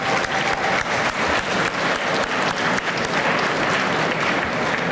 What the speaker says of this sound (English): So let's give those kids a round of applause because they're here.